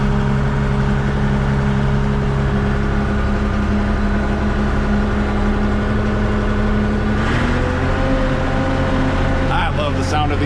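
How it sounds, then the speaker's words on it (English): An Oliver 310 tractor engine runs at a steady idle, a constant low droning hum with a slight shift in pitch near the end, while a person talks over it. "Sound of these 310s."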